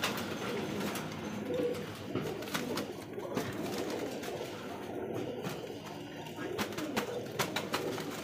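Racing pigeons from a BRPFC club, male and female birds, coo at close range, low throaty calls repeating against a steady busy background with brief faint voices.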